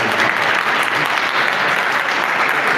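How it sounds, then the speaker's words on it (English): An audience claps steadily and loudly throughout a stakeholder sensitization and farmer training event, a dense wash of hands with no voice over it. "I want you to clap for that lady again"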